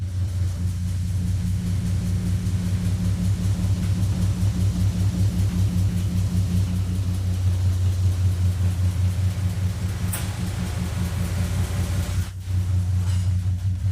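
A Chevrolet Opala engine idles with a steady, deep low rumble and a fast pulsing throb, loud and close, with a brief sharp click near the end.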